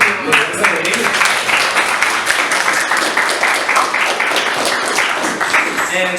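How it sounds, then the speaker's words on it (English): A school TEDx audience gives a loud, sustained round of applause. Dense, even clapping carries on for several seconds with some voices mixed in. "A round of applause also for everyone."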